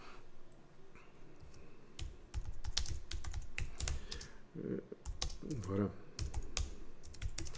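Rapid keystrokes on a computer keyboard, likely a Mac, as text is typed into a Google Doc, with irregular bursts of close clicks and a brief spoken word partway through.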